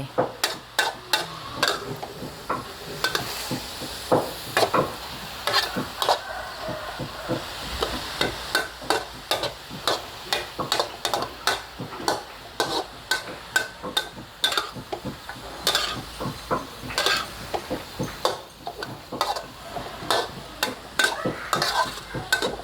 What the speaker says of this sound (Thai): ใส่ต้นหอมลงไปผัดเลย